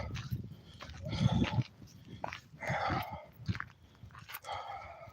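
A dog growls and grumbles in uneven bursts, close and fairly loud, with gaps of quiet between the throaty rumbles.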